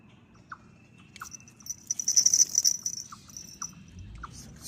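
Strange birds call in a forest along a walking path, a few short chirps standing out while a denser shrill trill swells in the middle and fades, over a low rumble of footsteps or handling noise.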